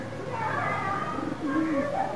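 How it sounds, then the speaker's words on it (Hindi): Pigeons coo softly in a rolling, wavering murmur, close by and continuous for a couple of seconds, with a faint voice underneath. "उधर से उसके कबूतर उड़ रहे हैं"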